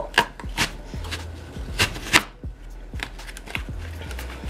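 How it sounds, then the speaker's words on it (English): Sharp knife cuts through an apple thud on a cutting board, a few irregular crisp chops with small clatters between, close up and without speech. "what I'm going to start off doing is decoring my apple"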